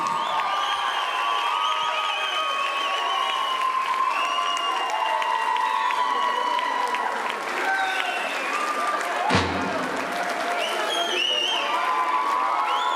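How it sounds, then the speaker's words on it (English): Sustained audience applause at a folk dance ensemble's 40th anniversary concert, a dense continuous roar of clapping in a large hall with whistles and cheers rising through it, steady throughout with one louder burst near the end. "One more round of applause"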